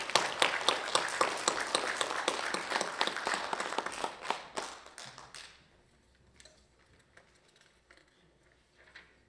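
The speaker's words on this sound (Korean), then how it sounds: "우리 관장님을 힘찬 박수로 모시겠습니다." Audience applause in a hall welcomes the keynote speaker, a former museum director, at a commemoration of the national founding program's 80th anniversary, loud dense clapping for about five seconds, then fading to scattered claps and quiet room tone.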